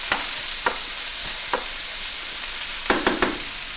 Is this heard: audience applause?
no